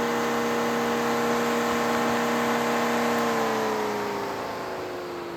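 Car radiator cooling fan running unloaded during an airflow test, a steady whirring drone with a strong tonal hum that holds for several seconds, then its pitch drops gradually as the fan slows near the end.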